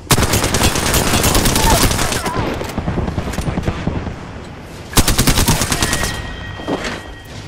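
Rapid automatic gunfire bursts loudly in an Apex Legends match, with sustained volleys, a short pause and another close burst, plus faint game sounds.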